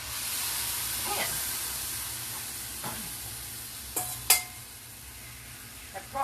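Marinated steak strips for pepper steak frying in a pan, with a steady broadband sizzle and hiss throughout, stirred now and then, plus a few sharp clinks and scrapes of a utensil near the end.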